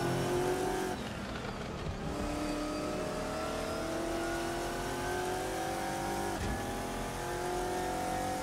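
Racing car in the Assetto Corsa sim racing game at Laguna Seca, engine droning loudly and steadily with shifting pitch as it brakes and the wheels lock up, a brief rough scrub mid-way, no talking.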